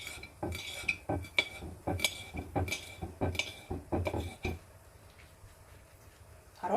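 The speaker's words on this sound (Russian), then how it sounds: "Сельдь мы достаем и нарезаем ее вот такими вот достаточно мелкими кусочками." A knife chops pickled herring into small pieces on a board, giving a run of sharp, evenly spaced knocks close up for about four seconds before dropping to quiet room tone.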